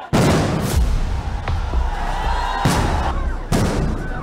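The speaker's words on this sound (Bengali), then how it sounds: "পুলিশের পরপর কয়েকটি সাউন্ড গ্রেনেডের বিস্ফোরণে চারদিকে আতঙ্ক ছড়িয়ে পড়ে।" Police sound grenades go off one after another during a clash with protesters, loud sharp blasts in quick succession over a roaring, noisy crowd backdrop.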